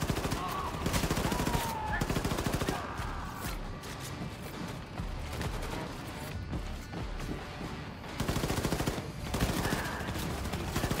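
A gun turret in the video game Wolfenstein II fires long, rapid, relentless volleys, loud and dense, briefly easing in the middle before surging again, with a voice speaking over parts of it.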